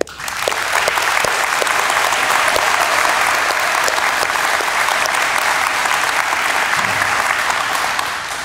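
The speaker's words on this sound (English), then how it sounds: "please join me once again in applauding all of our new Honor Society members" Audience applauding new members at a National Junior Honor Society induction ceremony, loud sustained clapping from a large crowd for over eight seconds, even and dense, with no talk over it.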